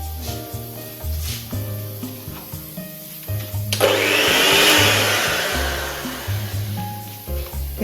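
An electric beater whirs into brownie batter for about two seconds, a loud, hissing motor burst that rises and fades, set between stretches of background music.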